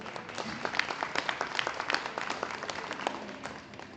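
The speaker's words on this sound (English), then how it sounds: "So we can give them a brief round of applause." A small audience at a showmanship juniors event gives a brief round of applause, crisp individual claps close by forming a steady patter that fades near the end, without talk.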